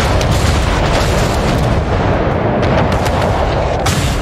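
Naval artillery fire in World of Warships, a dense, continuous roar of booming gunfire that stays loud throughout.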